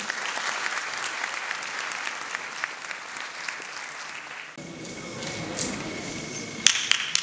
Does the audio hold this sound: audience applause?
yes